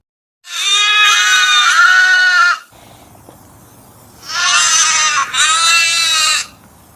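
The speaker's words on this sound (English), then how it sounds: "Goat." Two bouts of goat bleating, one long harmonic cry followed after a pause by a pair of wavering bleats, loud and close against quiet farm background.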